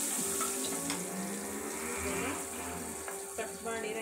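Onions cooking with a pinch of turmeric in a pan over medium heat, giving a soft continuous sizzle with faint stirring ticks, fairly quiet and steady throughout.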